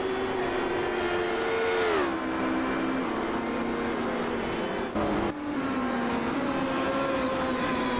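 Formula One race cars howl around the Montreal circuit in a continuous loud engine drone, pitch shifting as they shift gears and accelerate out of a turn, with a brief gap near the middle.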